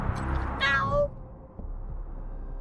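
A cat meows once in the Wasteland 3 video game, a short rising harmonic cry that sits clearly above a low, steady background hum of game ambience.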